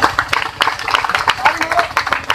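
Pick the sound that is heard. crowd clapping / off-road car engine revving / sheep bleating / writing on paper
crowd clapping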